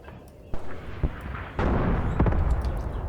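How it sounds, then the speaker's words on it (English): Gunfire, likely from a tank, in the Tank Warfare: Tunisia 1943 game, with sharp booming shots near 0.5, 1 and 1.6 seconds followed by a denser rumble of bursts and pops over a noisy battlefield background. "There's something shooting there. I suspect it's maybe another tank."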